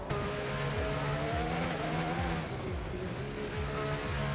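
F1 race cars in a racing video game, high-pitched engines screaming and rising through repeated gear shifts, several cars running close together with a continuous loud roar.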